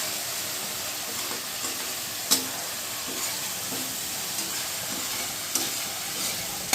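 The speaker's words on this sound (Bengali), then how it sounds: "এই আদা রসুন বাটাটা দিয়ে একটুখানি এটার সঙ্গে মিশিয়ে নেবো" Ginger-garlic paste fries in a pan for dahi katla, giving a steady, close sizzling hiss broken by occasional sharp scrapes and clicks of stirring.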